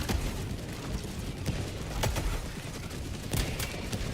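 Gunfire in Helldivers 2, a run of sharp separate shots at irregular intervals over a steady rumbling game background, fairly distant and moderate in level.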